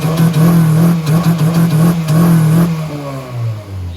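A Honda K20 Type R engine, freshly refitted with a new fuel system, idles loudly with a steady low drone and blips of revving, then the revs fall away near the end; no talking.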